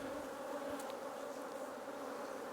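Honey bees buzz steadily in an open hive on a brood frame with emerging bees, a dense continuous close hum with no voices.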